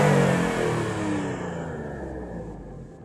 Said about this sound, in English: Right now you might be able to hear the exhaust.